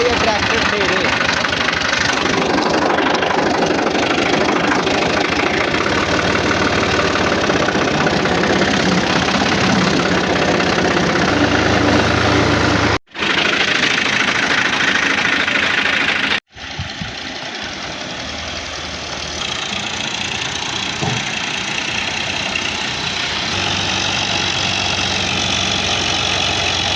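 A tractor engine runs continuously while fodder is loaded and hauled, a loud, rough, steady rumble with two abrupt brief dropouts and voices mixed in.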